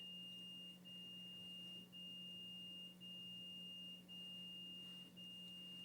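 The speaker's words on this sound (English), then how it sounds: "Or is it the alarm in the next room?" A faint electronic alarm in the next room beeps at a steady pace, roughly once a second, over a constant low hum, sounding muffled and distant.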